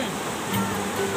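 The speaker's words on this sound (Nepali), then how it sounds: "खोला यस्तो छ साथीहरू" A shallow stream flowing beside a highland forest trail produces a continuous watery rush, close and steady, with a faint tonal sound briefly over it.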